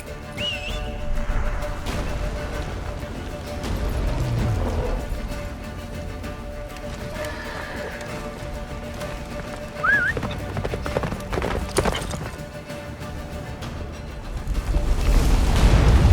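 Roach, Geralt's horse in The Witcher 3, gallops with rhythmic hoofbeats under a busy game soundscape of whistles, a whinny and rumbling effects, building louder toward the end.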